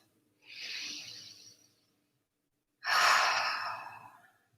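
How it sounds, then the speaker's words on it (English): Two slow, breathy breaths during a restorative yoga session, each a soft airy rush lasting over a second, separated by a short silence, close and quiet with no talking. "Let's take a few breaths in through the nose and out through the mouth."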